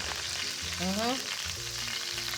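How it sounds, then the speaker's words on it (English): Coffee and sugar sizzling in a hot frying pan like caramel, a steady close continuous frying sizzle, with a faint voice briefly audible under the crackle. "it sizzles like you're making caramel"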